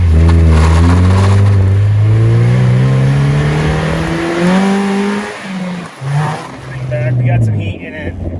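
An Acura Integra fitted with a four-point roll cage revs hard through rising gears while driving, the engine pitch climbing repeatedly with brief shift dips, close and loud with talk over it.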